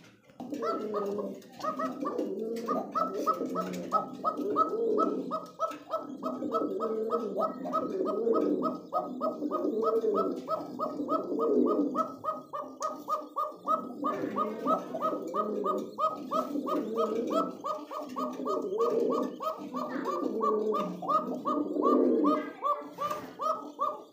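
Many pigeons at a crowded pigeon market coo and call continuously in dense overlapping rolls, loud and close, with people talking faintly underneath.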